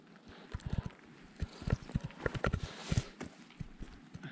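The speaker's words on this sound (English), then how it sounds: "lovely horses" Horses walking on the open hillside near Ben Alder in the Scottish Highlands, their hooves clopping close by in an irregular rhythm over steady wind and outdoor ambience.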